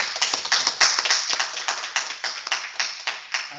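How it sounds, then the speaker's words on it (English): A small group applauds the speaker at the close of a neuropsychiatry meeting, a thin, uneven patter of individual claps, close and clearly separated, as if from a handful of people or a remote call. "so a round of applause again for Z."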